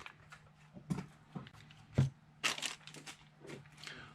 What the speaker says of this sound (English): Let's start by opening up our Hi-Capa.